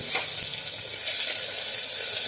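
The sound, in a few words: tomatoes added to hot oil sizzling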